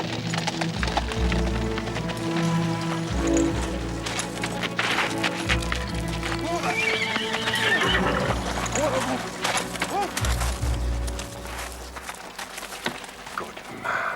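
A runaway horse gallops along a road in Victorian England, its hooves drumming steadily throughout under dramatic orchestral music and shouting voices.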